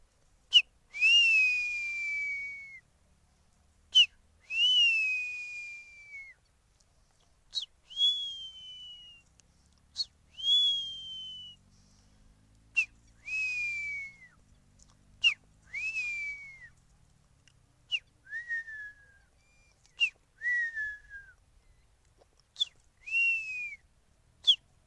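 A man imitates a hawk's call with a high, thin whistle. Each sharp onset is followed by a descending squeal, repeated roughly a dozen times at steady intervals in otherwise quiet surroundings.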